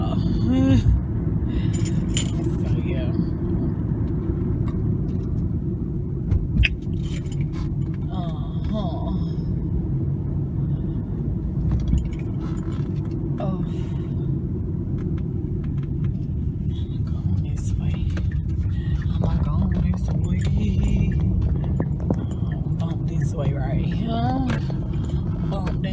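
Midday road traffic at lunchtime, a steady low rumble of passing cars heard continuously from inside a nearby spot, with a person talking over it throughout.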